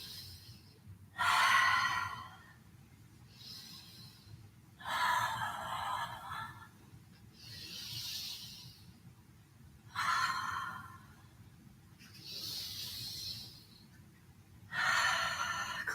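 Deep breathing during a slow-flow yoga practice, long audible inhales and exhales alternating in a slow, even rhythm, close and soft.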